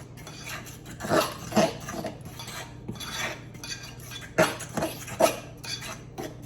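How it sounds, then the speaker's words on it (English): A spoon works through espresso double chocolate muffin batter in a bowl, making irregular scraping strokes and several clinks against the bowl, moderately close, with no talking. "I'm going to stir this in and add the last of the buttermilk in a minute"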